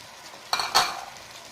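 Carrots and potatoes stirred into frying chicken afritada in a pan, two quick close scrapes and clatters over a faint background sizzle, with no talking.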